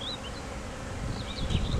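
Honey bees from five hives at an industrial site in Trois-Rivières, Quebec, hum in a steady low drone, with a few individual insects buzzing closer and louder near the end.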